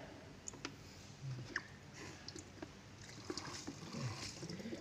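A small Arduino-based water monitoring device for turbidity and pH filling with water gives a faint, quiet trickle and slosh, dotted with small scattered clicks.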